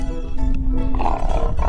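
A short, loud lion roar rumbles close up, a toy sound effect with a growling, harsh tone over a steady background hum.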